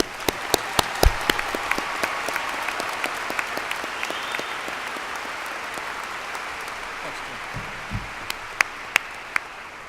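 A large audience at a law school commencement applauds scholarship winners, a loud, sustained wash of clapping that fills the hall, with a few sharp nearby claps and thumps standing out.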